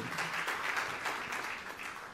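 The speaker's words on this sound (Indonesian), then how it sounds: "Tepuk tangan yang meriah untuk kemuliaan nama Tuhan." A church congregation claps together in a brief, steady burst of applause, moderately loud and fading slightly at the end.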